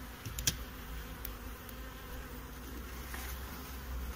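A dense, even hum of honeybees comes from an overwintered reserve nucleus colony during a hive inspection in Brno, with a few faint clicks and taps of handling over the steady buzz.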